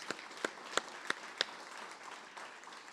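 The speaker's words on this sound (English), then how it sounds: "So to all the law enforcement community, please, a round of applause." An audience at a Rio Grande City State of the City event applauds law enforcement with quiet, sparse clapping; a few sharper individual claps stand out early, then the sound thins to a soft, steady patter.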